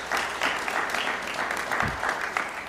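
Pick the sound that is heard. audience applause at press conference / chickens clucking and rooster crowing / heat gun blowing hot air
audience applause at press conference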